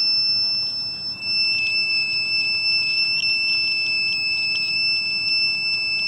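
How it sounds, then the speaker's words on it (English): A water tank level indicator buzzer built around an ESP8266 beeps steadily at high water level. It gives a continuous shrill electronic tone at moderate volume, with faint background hum and no talk. "at high level red LED will glow in a smartphone, and the buzzer starts beeping"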